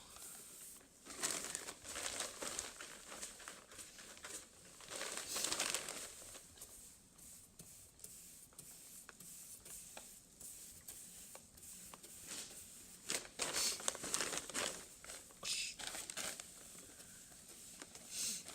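Painter's tape peeled from a baseboard and wall, bursts of crackling, tearing rustle with short pauses between pulls, close and soft.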